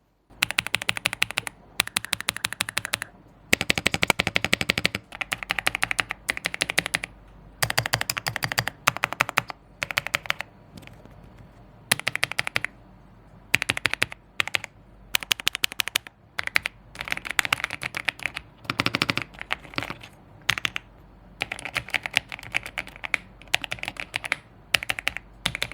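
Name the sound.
mechanical keyboard typing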